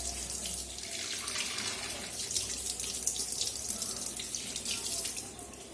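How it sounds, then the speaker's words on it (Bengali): Tap water runs steadily into a sink while fish is being washed, a continuous splashing hiss with no pauses, close and fairly even in level. "চল মাছের চোখ মুখ ধুয়ে দিয়ে নে, চোখে ভালো করে জল দে।"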